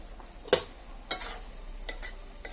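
A vegetable fry is stirred in a pan: a few distinct spoon scrapes and clacks spaced apart over a soft sizzle, close and fairly quiet.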